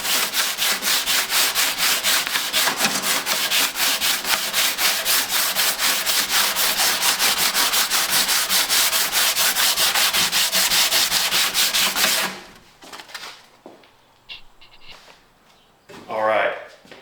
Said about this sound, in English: All right, so I'm getting this sanded down